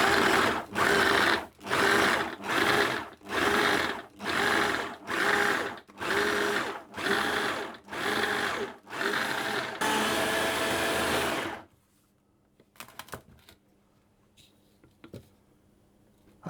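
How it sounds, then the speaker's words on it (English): A food processor pulses a date slice mixture in about ten short bursts with brief gaps, then runs continuously for a couple of seconds before stopping, leaving quiet clicks and handling noise. "I'm going to pulse that until the mixture becomes quite coarse"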